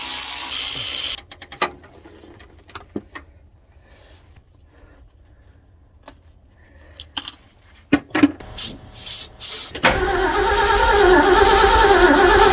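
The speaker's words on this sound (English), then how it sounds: "So I'm going to pop these two clamps off, get this filter changed, and see if we can get some fuel through here." Clamps come off a fuel line on a 1969 Ford dump truck as the fuel filter is changed, heard as scattered close metallic clicks, ratchet turns and taps over quiet, then a loud steady engine-like rush takes over near the end.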